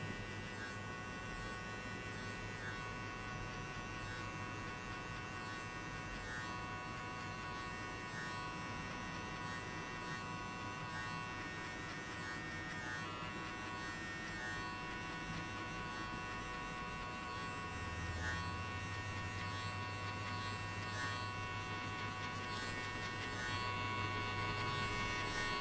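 Electric hair clipper buzzing steadily during a high fade haircut, a continuous close motor hum with a slight shift in pitch and loudness partway through, no talking.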